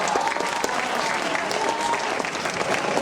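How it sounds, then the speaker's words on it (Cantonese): A school drama competition audience applauds loudly and continuously, a dense wash of clapping filling the hall with a faint crowd murmur beneath. "咁大家俾掌聲嘅"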